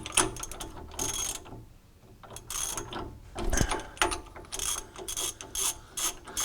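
A ratchet works loose a nut on the pinion of a 1931 Plymouth, with repeated bursts of rapid clicking from the pawl and short pauses between strokes, close by.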